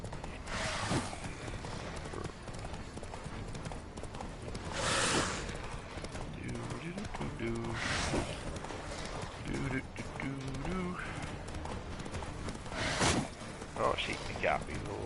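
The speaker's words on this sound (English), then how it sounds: "If I can remember how to ride a horse." Horse hooves pounding in a rapid galloping rhythm while riding in The Witcher III, mixed with game sounds and a player talking over the action throughout.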